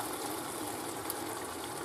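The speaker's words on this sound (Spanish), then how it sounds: "Y un poquito de agua." Water gushes in a steady, soft stream, pouring continuously into a cooking pan of lamb chops with tomato at close range.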